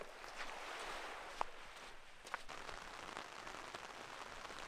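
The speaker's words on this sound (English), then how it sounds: "that rain is here" Rain begins falling on a beach, a faint, even hiss of drops with a couple of sharper taps, heard from a distance with no voices.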